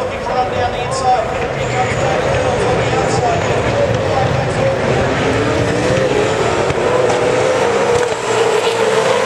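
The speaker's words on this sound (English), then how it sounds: "Out go the red lights, and away go 28 V8 supercars." Twenty-eight V8 Supercars accelerate together off the grid at a race start at the Australian Grand Prix, a loud continuous roar of engines that fills the whole stretch under a commentator's voice.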